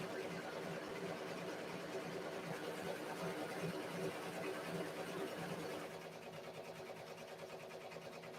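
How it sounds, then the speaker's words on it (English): A Ricoma MT 1501 embroidery machine runs with a steady, fast mechanical whir and rapid needle ticking, close and constant, easing slightly toward the end. "my Ricoma is actually quieter than my serger"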